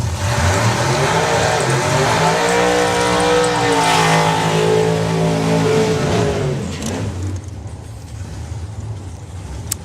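Drag-racing door cars, including a big-block nitrous Ford Pop, roar hard and loud at close range with a rising, revving engine note that holds for several seconds, then fades quickly as they pull away at a national finals meet.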